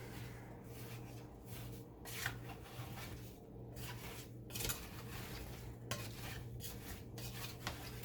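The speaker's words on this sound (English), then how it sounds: "Give this a quick stir." A spoon stirs food in a pot while cooking, a soft, steady scraping and rubbing that rises and falls in strokes, quiet and close, with no talking.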